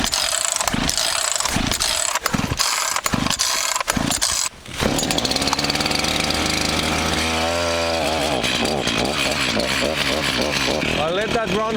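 A brand new chainsaw sputters through several pulsing start attempts, then catches and idles in a loud continuous drone that rises and wavers near the microphone, with a voice talking over it.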